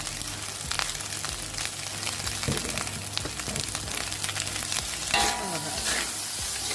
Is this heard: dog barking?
no